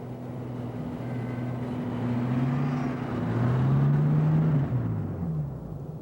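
A 1988 Jeep drives across snow, its engine a steady low drone whose pitch climbs and falls as it works through the gears. The sound is fairly close, with a soft broadband rumble beneath it and no voices.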